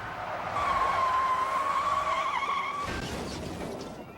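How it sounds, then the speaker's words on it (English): A heavy car fishtails and skids during a 1997 police chase, a long sustained tire squeal sweeping across the road over engine roar, loud and continuous before fading into rough road noise. "once that heavy car starts to fishtail, it's all over."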